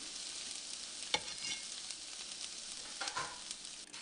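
Diced red pepper sizzling in a frying pan, a steady high hiss with occasional stirring scrapes and clicks, close and moderately quiet, with no voices.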